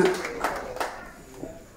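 An audience at a tribute event for Linda de Suza in Amfreville-sous-les-Monts applauds briefly. The scattered claps are fairly close and mix with a voice talking, then fade within two seconds.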